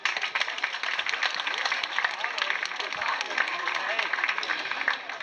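Audience applause at the Golzowtag 2012 community event, honouring a long-serving district administrator: steady, dense clapping from a crowd held at an even level for several seconds, with a few voices mixed in.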